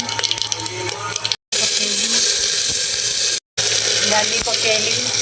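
Dried red chillies and tempering spices sputter in hot oil during Odia cooking, a loud, close, continuous hiss and crackle broken by two brief dropouts, with a voice talking over it.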